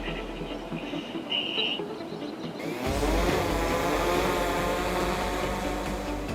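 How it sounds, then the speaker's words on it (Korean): A drone that monitors fine dust over an industrial area lifts off, its motor whine rising into a steady, fairly loud buzzing drone after a short quieter stretch of background noise. "드론으로 미세먼지를 감시하는 시스템이다."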